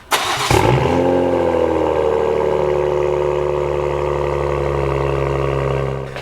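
An Ineos Grenadier fires up with a Miltech non-resonated cat-delete exhaust, a sharp start bursting in before settling into a loud, steady, throbbing idle that carries on alone and close by.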